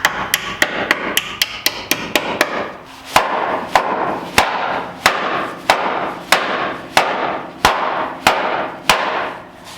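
Hammer blows from a small 2-pound hammer striking a metal tab on a lifted Mazda Miata, first in a quick run of sharp taps, then steadier, heavier strikes about every half second, close and loud.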